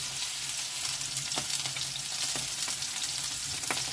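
Potatoes sizzling in oil in a frying pan for a stewed potato and mushroom dish, a continuous close hiss with a few soft clicks of stirring.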